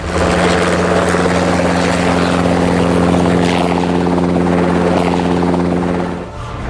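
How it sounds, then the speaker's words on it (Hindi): A military helicopter over the desert, with soldiers rappelling down ropes, makes a loud, continuous, close rotor-and-engine roar that holds steady throughout, then dips slightly at the very end. "हेलीकॉप्टर की तेज गर्जना मरुधरा के मौन को चीर रही है।"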